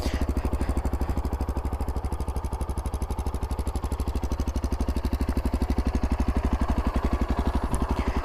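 A 2025 Yezdi Adventure motorcycle engine idles close by, a loud, steady, evenly pulsing thump with a rhythmic mechanical clatter and no talking.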